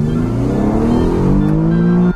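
A sports car engine held on launch control revs steadily at high pitch near 4,500 RPM, loud and close, its tone climbing slightly as it holds near the limit before launch.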